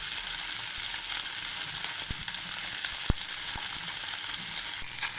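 Small whole fish frying in a little hot oil, making a continuous close sizzle with a few sharp pops and spatula scrapes; no voices.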